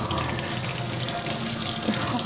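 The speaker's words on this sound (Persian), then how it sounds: "بیم بگیرین زیر آب سرد" Cold water runs steadily from a household tap into a sink, a continuous close splashing rush with no pauses, heard alone without talk.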